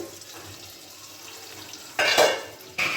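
A lid comes off a pan of Bengali prawn curry, giving a sudden metallic clatter followed by a louder burst of sizzling and bubbling from the pan, then another clank near the end.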